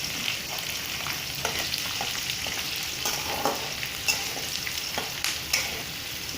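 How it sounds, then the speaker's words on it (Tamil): Garlic and curry leaves sizzle in hot oil for tamarind puliyodharai paste, a steady close-up crackle with occasional scraping clicks of a stirring spoon, with no talk. "எண்ணெயில் இதெல்லாம் நல்லா வணங்கட்டும்"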